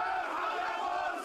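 Officers and soldiers chant together in a loud, massed crowd at a police officer's funeral in Alexandria that turned into a protest. A brief, steady roar of voices sounds at a distance.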